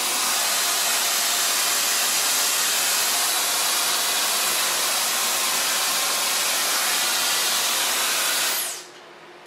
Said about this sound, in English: So far blow drying.